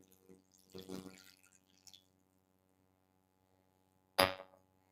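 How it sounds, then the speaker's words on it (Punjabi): Water from a glass poured into a cooking pot for a home remedy brew, a short soft splash and trickle, then quiet, followed by a sharp brief clatter near the end. "1 ਗਲਾਸ ਪਾਣੀ ਦਾ ਪਾ ਲੈਣਾ।"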